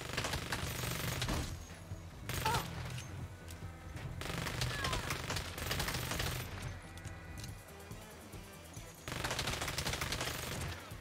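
SMG gunfire in the Saints Row reboot, rapid automatic bursts that come in long stretches separated by short pauses, loud and close with crackling impacts.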